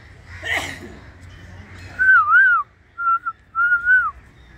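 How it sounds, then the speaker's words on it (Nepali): At the Central Zoo in Jawalakhel a bird gives clear, high whistled phrases: one long wavering whistle, then a short note and a longer sliding one, after a brief noise at the start. "यहाँ यो चराले सिटी बजाउँछ"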